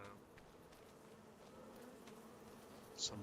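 Bees in Farming Simulator 25 give off a soft, steady buzzing hum that stays faint and constant, with one brief brighter chirp near the end.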